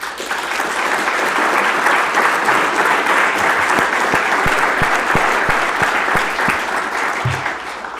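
Audience applause at the close of an asphalt engineering colloquium, loud sustained clapping from a seated hall crowd with a few distinct claps standing out near the front.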